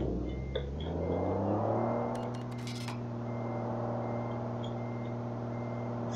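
A Volvo F10 truck hauling a 45-tonne load in Euro Truck Simulator 2 reverses, its engine droning steadily while a short burst of rapid reversing beeps sounds partway through, with no talk.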